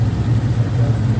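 A cammed Dodge SRT8 V8 with a big aftermarket cam on the stock torque converter idles steadily close by, a deep, lumpy low rumble holding an even level with no talk.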